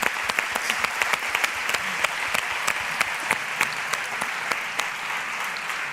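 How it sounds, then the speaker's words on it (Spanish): Audience applause for the sound and production crew at a fashion event, a steady wash of many hands clapping with sharp individual claps standing out, sustained and fairly distant throughout. "vamos a dar un aplauso también a nuestros compañeros de sonido y de realización"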